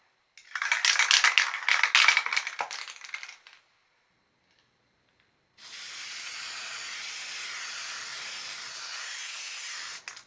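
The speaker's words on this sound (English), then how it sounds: "So basically all I'm going to do is just spray it." Cleaner is sprayed onto silk flowers in two hissing bursts, the first about three seconds long and fluttering, then after a pause a steadier, softer spray lasting over four seconds, with no talking.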